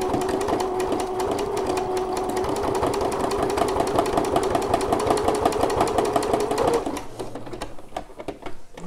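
A sewing machine runs a narrow zigzag stitch on a bra, a fast, even mechanical rattle that holds steady for about seven seconds before it slows and stops.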